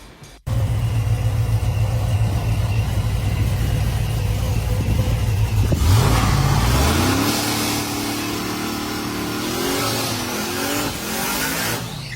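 A truck engine fitted with a ProCharger F1X supercharger idles with a deep, loud rumble, then revs hard with a rising whine, drops back, and climbs again in a second surge.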